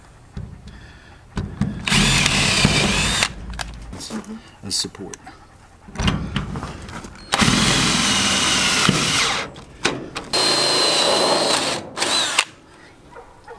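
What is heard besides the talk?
power drill drilling metal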